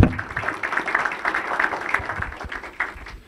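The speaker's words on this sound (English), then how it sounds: "I would like for everyone here to give you all a round of applause" An audience at a Hopkins County GOP meeting applauds, a moderately loud patter of many hands clapping steadily for a few seconds and then gradually thinning.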